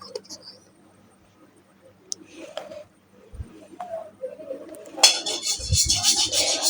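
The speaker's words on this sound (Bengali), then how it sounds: "একটা চামচ দিয়ে আমি সুন্দর করে শুকনো উপকরণগুলো মিশিয়ে নিব।" A spoon stirs dry bread dough ingredients in a bowl, giving soft intermittent scrapes and light clinks that swell into a steady, louder rustling scrape over the last couple of seconds.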